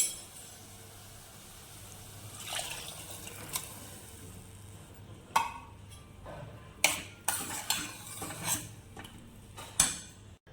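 Washed rice and lentils are tipped into a pot with fried sponge gourd for khichdi. A few sharp metallic clinks and scrapes of a spoon against the pot ring out over a faint watery hiss, with no talking.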